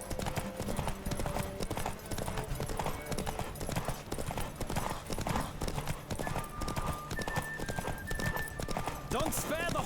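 Rapid hoofbeats of a galloping horse in the video game The Witcher 3: Wild Hunt pound steadily throughout, with a whinny near the end and voices talking over the din.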